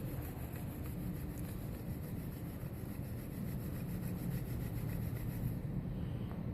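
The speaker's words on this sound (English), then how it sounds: "to burnish the tip." A cloth rubbed fast over a billiard cue tip to burnish it, giving a steady, continuous scrubbing swish heard up close and alone.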